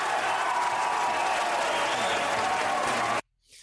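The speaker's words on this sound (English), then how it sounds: "Big applause there." A political rally crowd breaks into loud sustained applause mixed with cheering, a dense roar of clapping and voices that cuts off abruptly near the end, followed by a brief faint tail.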